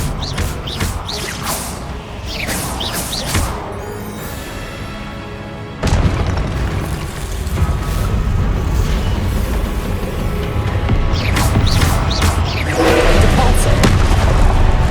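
Confringo fire-blast spells in Hogwarts Legacy on PS5, loud repeated booming blasts and whooshes layered over dense game action and music, with a voice calling out spell names throughout.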